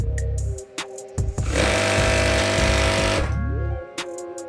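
An electric sewing machine runs a steady, loud burst of rapid stitching for about two seconds along a capri trouser seam with elastic, starting and stopping with brief clicks around it.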